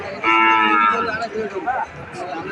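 Calves at the Ambari livestock market in Dinajpur, including Sahiwal, give a loud, close moo lasting about a second, followed by softer lowing and crowd murmur.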